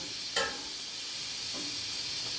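Dry onion hits a hot pan, a short sharp sizzle burst followed by a steady frying hiss and a second fainter spurt, close and with no talking.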